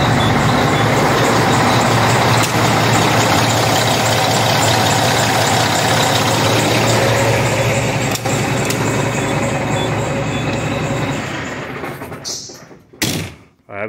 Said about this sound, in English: I don't know if you've ever seen my past videos or heard the truck starting this thing, man. Now, fires right up.